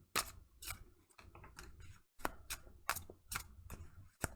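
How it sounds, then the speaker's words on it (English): Tarot cards are shuffled by hand in a series of about eight crisp, snapping riffles with short pauses between them, close by and with no voices. "There's a lot of shuffling going on."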